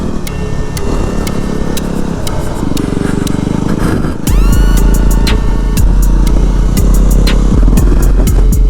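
A Yamaha WR250R dual sport motorcycle ridden on dirt, its engine droning steadily and loud nearby, then revving up with rising pitch partway through amid clattering from the rough ground.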